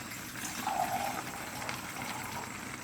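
Water is poured into a pan of chop suey, a soft, brief splashing fill near the start that settles into a low, faint background hiss.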